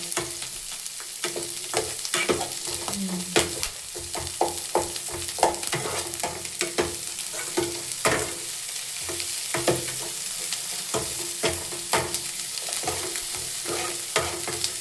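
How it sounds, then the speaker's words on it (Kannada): Beetroot palya fries in a pan on medium flame with a constant close sizzle. Repeated spatula scrapes and stirring clatters recur irregularly, and no voices are heard. "ಫ್ರೈ ಮಾಡಿ. ಈಗ ಸ್ವಲ್ಪ ಮೀಡಿಯಂ ಫ್ಲೇಮ್ನಲ್ಲಿ ಇಟ್ಕೊಳ್ಳಿ"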